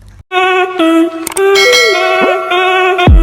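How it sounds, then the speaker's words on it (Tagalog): A bright metallic ding rings out and sustains, followed by a few more chimes and clangs layered over the ringing tone. "don't forget to tap the notification bell"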